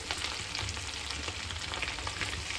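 Small fish kebab pieces frying in hot oil over a high flame, a loud dense bubbling sizzle heard up close and continuous throughout, with no voices.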